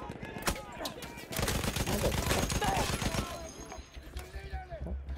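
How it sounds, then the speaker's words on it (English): Gunfire crackles in the video game Battlefield 1, with a single shot and then a dense burst of rapid shots that fade to scattered pops while a voice talks over it. "Fucking shooting at me."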